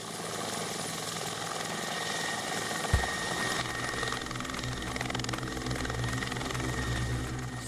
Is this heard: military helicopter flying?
yes